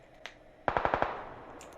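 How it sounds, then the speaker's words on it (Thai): Machine gun fire in the video game PUBG Lite: a single faint shot, then a quick burst of five loud, evenly spaced rounds that trail off into a lingering echo. "มันกำลังยิงกันละ"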